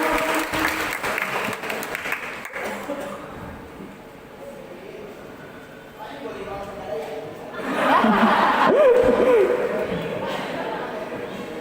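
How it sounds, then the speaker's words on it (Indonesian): A church congregation at a thanksgiving service applauds, a steady wash of clapping that swells louder toward the end, with a voice and some chuckles mixed in. "Tepuk tangan sekali lagi buat Bang Mongol."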